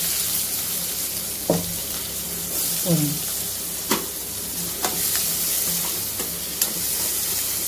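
Onion and chilli tempering in a pan, a continuous sizzle broken by several scraping stirs and clinks at irregular intervals.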